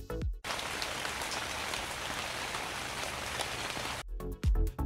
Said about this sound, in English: And the sound of rainfall.